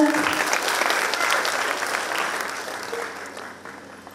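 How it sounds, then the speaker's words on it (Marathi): Loud applause from an audience at the Navdurga award ceremony honouring a woman, with dense clapping at its peak right away and then gradually thinning and fading over a few seconds. "जोरदार टाळ्या द्या."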